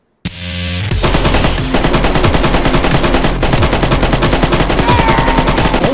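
Rapid automatic gunfire in the survival game DayZ, a loud, sustained burst of machine-gun-style shots after a brief lead-in, rattling continuously with a dense, steady rhythm.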